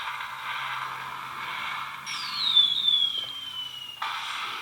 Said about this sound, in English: So obviously fireworks sounds.